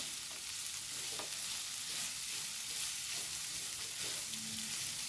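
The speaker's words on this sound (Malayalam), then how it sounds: "ചെറിയൊരു ഗരം മസാലയും കൂടെ ചേർത്തിട്ട് നമുക്കൊന്ന് മിക്സ് ചെയ്യാം" Garam masala mixed into a stir-fry of prawns and amaranth stems in a pan, a faint steady sizzle with a few soft scrapes of the spoon, quiet and close without voices.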